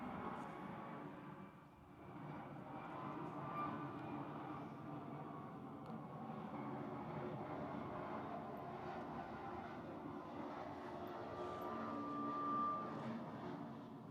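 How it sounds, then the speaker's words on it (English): A jet aircraft passing over an outdoor annual town meeting, a continuous low broadband rumble that rises and falls gently over many seconds, fairly distant, with no clear speech. "Let me just hold for the jet."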